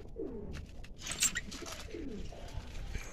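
Pigeons coo in low, rolling, throaty calls that repeat a few times, fairly close, with a brief flurry of higher bird chirps and rustling in between.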